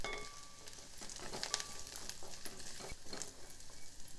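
Coconut pieces and gooseberries stirred in a pan for a chutney, giving scattered scraping and clinking strokes over a faint sizzle, close and fairly quiet, with no talk.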